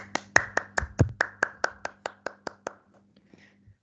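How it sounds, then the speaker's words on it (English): A small group claps for a student team at an English class meeting, roughly a dozen sparse, evenly spaced claps that thin out and fade after about three seconds, with faint background hum. "let's give applause to them"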